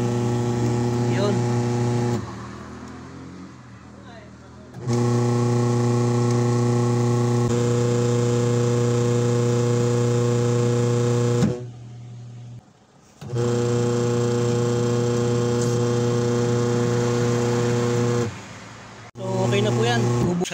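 An old, discarded washing machine, broken with a missing spring, runs after being plugged in: a steady, close motor hum in long stretches, cutting out briefly a few times before starting again.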